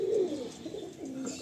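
A single pigeon gives a low, throaty coo up close in a loft of Andhra and Madrasi pigeons in Kolkata, one brief rolling call.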